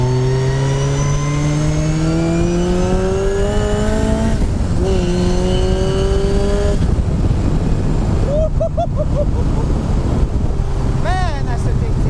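A supercharged Raw Striker 240S sports car pulls hard through several rising gears, each upshift cutting the engine pitch, then a short burst of throttle blips. The engine is loud and close over heavy wind rush, and a voice speaks briefly.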